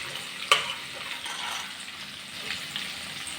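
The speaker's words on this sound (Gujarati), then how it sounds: "જો થોડીક વાર હલાવો ને એટલે સેજ ટમેટાની જે કચાશ હોય ને એ નીકળી જાય." Tomato masala stirred in a pan with oil for a lobia curry, a soft continuous sizzle with a sharp clink of a spoon near the start, quiet and close with no talking.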